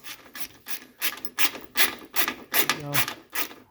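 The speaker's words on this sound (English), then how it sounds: "Now we'll go ahead and get the lock nut started." A wrench turning a lock nut on an engine mount of a 1981 Mercedes 300SD, a series of short rasping ratchet clicks in uneven strokes, close up with no talking.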